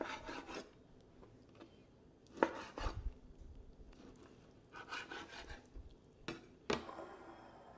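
A knife cuts a 1.5-pound salmon fillet into bite-sized pieces on a board, giving a few close, separate rasping slices and soft thuds with quiet pauses between them.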